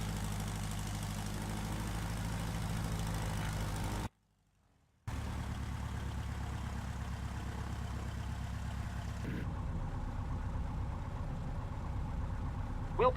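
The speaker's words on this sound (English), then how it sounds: "I'll taxi us up to the runway." A Piper light aircraft's engine idles steadily as it taxis in a flight simulator, a low continuous drone that briefly cuts out to silence, then resumes and slightly shifts tone near the end.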